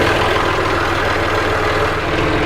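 A tractor engine runs at a steady, loud, rumbling idle, close by and continuous throughout, with no talk over it.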